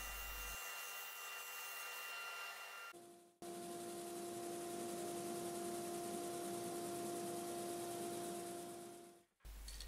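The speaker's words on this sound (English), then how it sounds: "I finish off the top of the roof by sanding it down to the sides" Continuous abrasive sanding on the wooden roof of a toy caravan, loud and close, running steadily with a short break near the start and a brief cut at the end.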